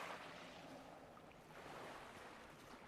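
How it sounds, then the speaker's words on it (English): Flowing water ambience from the fantasy game Guild Wars 2, in a nighttime area with shipwrecks, floating islands and waterfalls, rushing steadily and evenly throughout with no voices. "I just love the sound of flowing water too, by the way."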